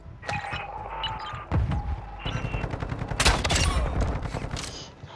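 A gun turret in Warzone 2.0 DMZ fires rapid, loud bursts of automatic gunfire, with dense repeated shots and sharp impacts running through the whole stretch.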